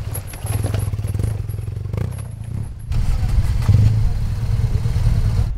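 A BMW GS motorcycle at the GS Trophy idles and rumbles on light throttle over an obstacle section, its engine note steady and close, with clattering and scraping of the bike over the ground and no talk.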